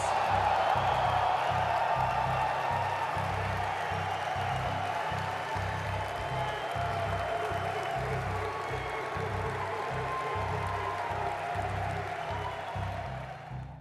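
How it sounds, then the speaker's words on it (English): A large crowd at the E3 gaming expo cheers and applauds loudly, a dense sustained roar that slowly fades toward the end. "The crowd at E3 immediately reacted with loud cheers."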